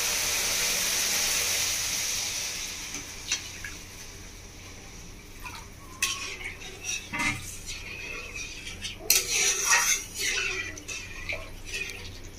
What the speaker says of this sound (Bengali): এবার আমি ফুটতে দেবো নারকেল দুধটা।